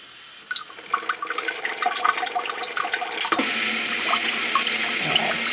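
Water sprays steadily from a bidet attachment set to low, a continuous hissing, splashing stream close by that grows fuller and denser partway through, with no voices.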